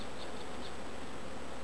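Honey bees swarm over an open hive during a mid-summer inspection, giving a faint, steady buzzing hum with no voices.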